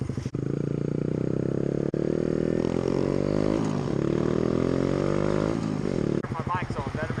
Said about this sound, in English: My bike's on, better make sure.